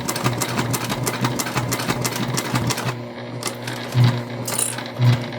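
A Juki TL2 sewing machine runs steadily through thick layers of a drawstring backpack near zipper teeth, a continuous close mechanical stitching hum with a slight pause near the end and two brief louder thumps.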